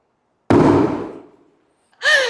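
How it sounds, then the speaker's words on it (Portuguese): A small explosion from a chemistry reaction demonstration goes off with a single loud, sudden bang that decays over about a second, followed by a brief burst of voices. "Tivemos aí a nossa explosão, meu povo."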